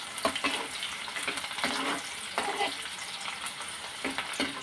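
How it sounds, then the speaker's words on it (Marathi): Garlic fries in oil in a pan for a spiced mixed-sprout curry, a crackling sizzle with bursts of stirring scrapes that come and go, and nobody speaks. "लसूण, तेलावरती हे मस्त असं खमंग होईपर्यंत परतून घेऊ।"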